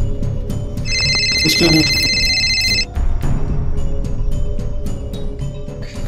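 A telephone rings near the start with a bright, repeated electronic ringing over a busy background. Someone speaks briefly in the clip.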